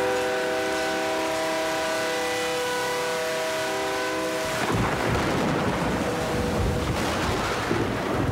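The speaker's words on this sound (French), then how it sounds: "ce train de marchandises traverse tout le Mexique" La Bestia, a freight train crossing Mexico loaded with cement, fuel or flour, starts with a long, sustained blare of its horn, which gives way to a loud, heavy roar and rattle of cars rolling past.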